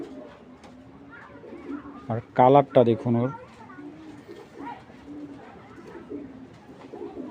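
Low, soft pigeon coos murmur throughout, with someone talking loudly in short bursts over them midway.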